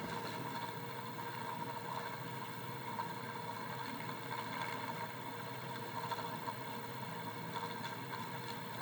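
A homemade pulse motor with a ground system runs with a quiet, steady mechanical hum and a faint buzzing texture, heard alone without speech.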